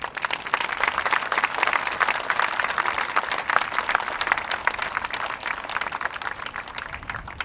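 An audience at a Korean teachers' union rally applauds with dense, sustained clapping that stays steady and fairly loud throughout, with no talk over it.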